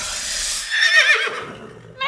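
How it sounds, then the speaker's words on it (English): Horse neighing in a children's animal mash-up guessing game, a loud whinny with a falling, wavering pitch that fades out over about a second before a brief noise at the end. "That's a horse."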